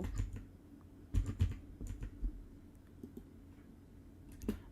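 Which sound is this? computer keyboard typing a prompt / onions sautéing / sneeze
computer keyboard typing a prompt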